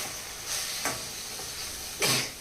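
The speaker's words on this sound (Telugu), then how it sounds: "వేసిన తర్వాత ఒకసారి బాగా కలిపేయాలి" Sliced tomatoes stirred into an amaranth leaf fry in a pan, with soft sizzling and a few scraping strokes, the loudest coming near the end, close and fairly quiet.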